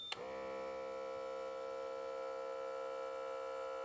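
A Microlife BP3AQ1 blood pressure monitor's small compressor starts with a click, then runs as a steady, even electric drone with a whiny tonal hum, close by and constant.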